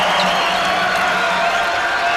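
Home crowd at a college basketball game cheering after a free throw, a loud, dense roar with whoops that holds steady and close for the whole moment.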